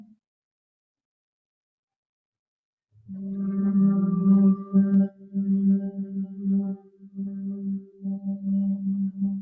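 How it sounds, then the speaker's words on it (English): A group hums together on a long exhale during a guided breathing session, a steady sustained low drone after a few seconds of silence, pulsing slightly as breaths run out and start again. "let's make a humming sound, which will help extend the exhale"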